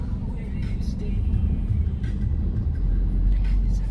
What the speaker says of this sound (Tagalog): Traffic po kahit saan.